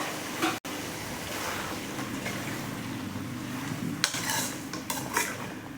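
A spoon stirring kandankathiri sautéing in a pan, with a constant sizzle under occasional scraping strokes and a few sharp clinks of utensil against metal near the end.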